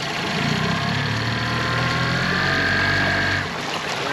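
A Yamaha 90 outboard on a 2015 Smokercraft Phantom 182 runs in forward gear, a loud steady motor drone with a constant whine that drops slightly near the end.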